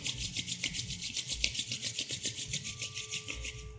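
Hands are briskly rubbed together during a yoga session, a rapid rhythmic swishing of palms close up, steady and fairly quiet for a few seconds.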